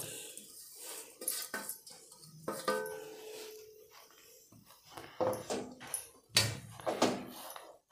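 A spoon scrapes and clatters in a pan as chopped dry fruit, dates and ground edible gum are mixed together, in quiet, uneven bursts of metallic scraping with pauses between.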